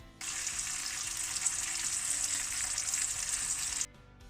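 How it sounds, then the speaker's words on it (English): Homemade whiskey and honey flavored bacon sizzles steadily in a hot pan, a bright, even crackling hiss that starts abruptly, holds for a few seconds, then cuts off. "so I just fry it again."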